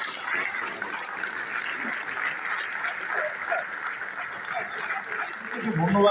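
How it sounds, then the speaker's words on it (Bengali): An audience in a packed hall at a winter pitha festival claps steadily throughout, a dense sustained wash of applause that swells slightly toward the end. "চক্রবর্তী মহাশয়কে একটু জোরে করতালি দিয়ে আমরা স্বাগত জানাই।"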